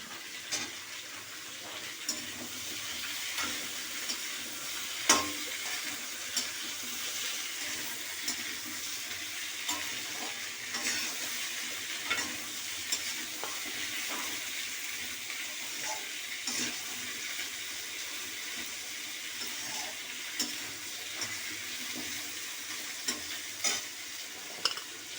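Eggplant pieces frying in a pan for a shrimp curry make a steady, moderate sizzle, with intermittent utensil taps and stirring knocks sounding close by.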